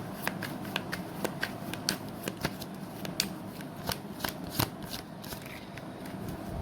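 Tarot cards are shuffled close by, a steady soft riffling and slapping of cards with small taps, continuous and quiet with no talk over it.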